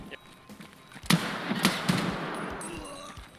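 Gunshots to the left in the video game Escape from Tarkov: a few sharp, loud cracks about half a second apart over a noisy background of movement and muffled action.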